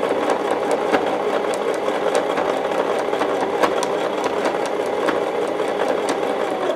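A sewing machine stitches a quilted potholder with a steady, fast mechanical whir and rapid needle ticking, running close and continuously at an even pace throughout.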